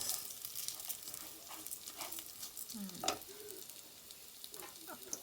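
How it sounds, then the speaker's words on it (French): Rice and chorizo frying together in a pan, making a soft, steady sizzle with faint stirring scrapes and a brief clatter near the middle, no one talking. "Vous laissez revenir un peu le riz avec le chorizo pour que ça s'imprègne bien."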